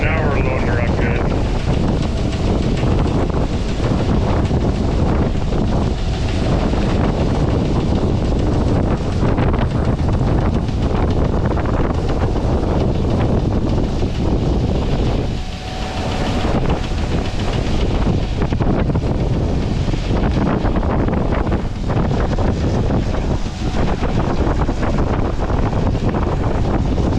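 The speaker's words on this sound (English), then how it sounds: "It's always nice when you're combining oats to have a bit of a wind." Steady wind gusting across an open oat field during combining, a continuous loud buffeting roar with a low machine drone beneath it, with no voices.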